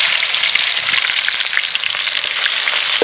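Onion drops into hot oil with fennel seeds, giving a loud, close, continuous sizzle with fine crackling for a few seconds.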